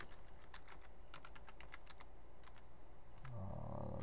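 Typing on a computer keyboard, a quick run of crisp close key clicks followed by a short pause and a few more taps, then a low hum near the end.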